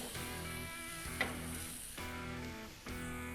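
A chuck roast, grilled like a steak, sizzles on hot grill grates just after being flipped: a continuous moderate hiss with a small sharp crackle, set against tonal background music.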